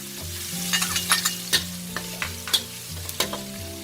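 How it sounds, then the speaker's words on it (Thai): Garlic fries in hot oil with a soft, steady sizzle under close clinks and scrapes of a spatula stirring in the pan, several sharp metallic taps punctuating it. "เราใส่กระเทียมลงไปเลยค่ะ เราเคี่ยวรอให้กระเทียมเหลืองก่อนค่ะ"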